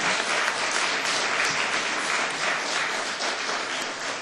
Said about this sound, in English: And you're allowed to applaud